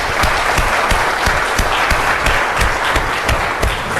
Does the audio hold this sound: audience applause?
yes